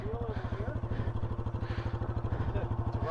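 Adventure motorcycle ridden off-road during a two-day training session, engine pulsing steadily and close at low revs with a rhythmic chugging throb throughout, while voices talk over it.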